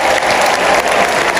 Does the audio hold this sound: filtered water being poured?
no